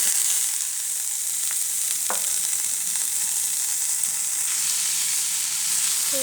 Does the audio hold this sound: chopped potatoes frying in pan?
yes